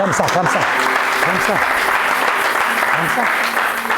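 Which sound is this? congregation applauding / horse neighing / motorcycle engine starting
congregation applauding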